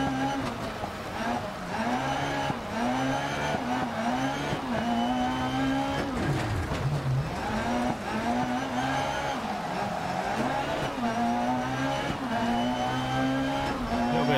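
A rally car on a stage in DiRT Rally 2.0, its engine revving up and down steadily through gear changes with tire noise, close and continuous for the whole stretch.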